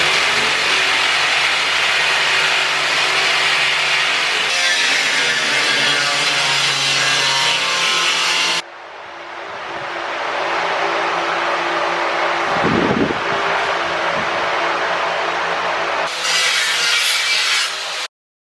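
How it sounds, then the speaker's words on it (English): A jigsaw and then an angle grinder cut through an aluminum window panel on a Vanagon, making a loud, continuous harsh buzzing and grinding that runs almost the whole time with brief shifts in pitch. "I was using the jigsaw first, but it wasn't cutting it, literally. So I had to switch to the grinder"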